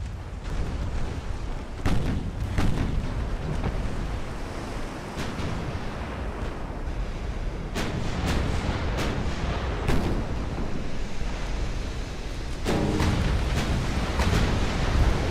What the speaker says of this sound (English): But Messina is still in danger because that's who she's firing at.